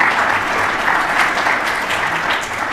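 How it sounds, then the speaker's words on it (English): A congregation applauds during a Youth Sunday church service, a loud, dense and even wash of clapping that holds steady for a few seconds without speech. "You can clap for that."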